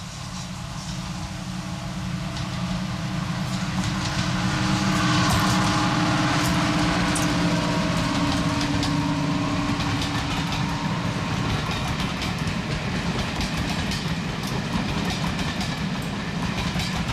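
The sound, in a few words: Royal Scots Grey locomotive rounding the curve at Olive Sidings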